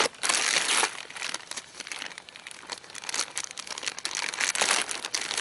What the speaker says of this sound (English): let's open this package up here. It's not a box this month